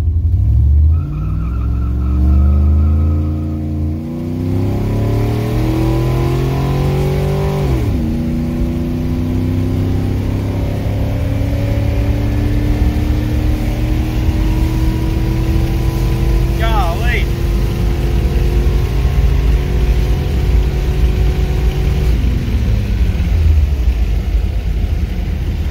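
An LS-engined car fitted with a Walbro 450 fuel pump on a test pull: the engine revs rise and fall through several sweeping climbs, loud and close, a long steady acceleration roar that tails off near the end.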